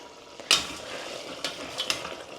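Tomatoes frying in a hot tempering for pav bhaji give a soft, steady sizzle, with a few sharp stirring clatters from a spoon against the pan.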